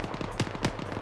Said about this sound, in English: There's some gunfire.